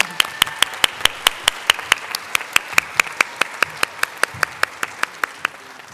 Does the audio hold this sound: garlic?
no